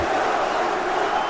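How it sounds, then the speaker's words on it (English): Arena crowd at an MMA bout between Islam Makhachev and Davi Ramos, a dense, steady roar of many voices chanting and cheering throughout, loud and continuous with no pauses. "Crowd chanting for Ислам Machaczev."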